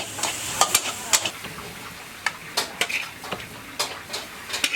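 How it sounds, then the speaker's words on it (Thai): Sharp scraping and clattering of stirring fish with spices in a hot wok over a steady sizzle, irregular strokes repeating close up. "เวลาเอาปลาลงกระทะคลุกเคล้ากับเครื่องเทศ"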